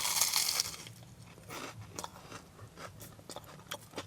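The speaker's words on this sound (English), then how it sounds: "The crunch of the batter is immense." Bites into a crunchy, crispy battered potato scallop at an old fish and chip shop give a series of close, sharp crunches and chewing sounds, with no talking.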